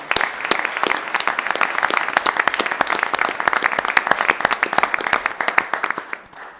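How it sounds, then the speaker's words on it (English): Audience at a city council meeting applauding for CJ, a steady burst of many hands clapping for several seconds, close and loud, fading out at the end. "So how about a round of applause for CJ?"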